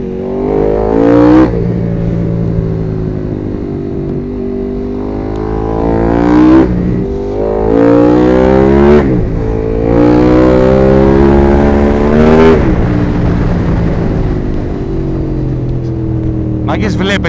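A motorbike engine revs repeatedly, rising and falling in pitch with sharp throttle blips, loud and close, while a voice talks over it.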